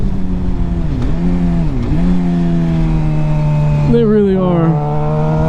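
A new Suzuki GSX-R600 motorcycle engine holds a steady idle, dips twice, then revs up with a rising whine, loud and close, while someone speaks briefly over it.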